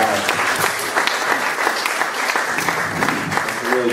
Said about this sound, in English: That's a really generous round of applause